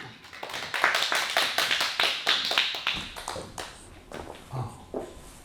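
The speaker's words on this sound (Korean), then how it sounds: "지금부터 박수로 강연을 청해보도록 하겠습니다." A modest audience at a bookstore book-concert lecture claps to welcome the speaker, a run of sharp close claps that gradually loosens and fades into scattered taps.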